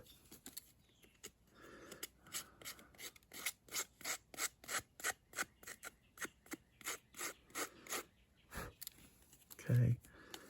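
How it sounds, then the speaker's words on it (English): Steel scissors scraping along the edges of a paper photo being aged for an assemblage art box, a steady series of short rhythmic rasping strokes, close and fairly quiet, with a brief louder thump near the end. "So I'm just gonna take my scissors and"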